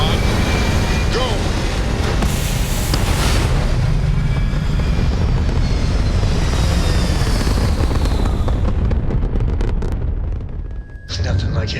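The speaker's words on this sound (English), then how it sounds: "Ready for takeoff in 3, 2, 1, go!" A spaceship lifting off in Starfield, a loud sustained roaring rumble that swells and then cuts away to near silence at the end, with a voice briefly over it.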